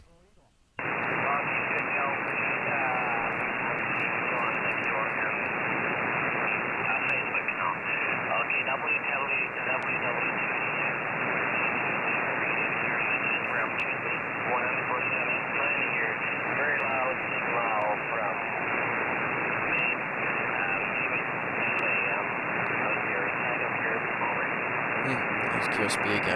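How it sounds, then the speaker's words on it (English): Ham radio reception during a live remote station stream: a steady band of static and noise with a faint signal that swells and fades, continuous and loud throughout with no clear talk. "There's a lot of QSB to be expected off the side of the stack here."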